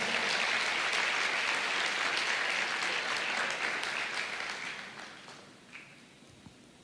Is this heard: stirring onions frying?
no